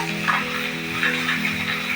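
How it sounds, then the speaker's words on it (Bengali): Steady sizzling of catla fish frying in hot oil, a continuous crackling hiss with faint stirring noises. "কাতলা মাছ ভাজা করা শেষ হয়ে এসছে"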